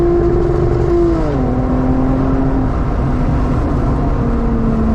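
A 2008 Lexus IS250 V6 engine revs high, then the pitch drops smoothly as the revs fall and settle into a steady, loud, close drone with no talking.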